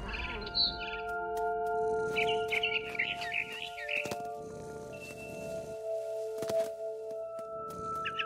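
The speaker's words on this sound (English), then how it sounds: "Then I heard chirping outside my window. It was a barn swallow going back to her nest." Barn swallow chirping in the video game What Remains of Edith Finch, short bright chirp bursts repeating over a steady droning game ambience.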